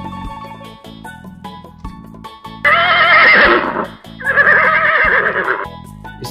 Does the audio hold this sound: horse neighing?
yes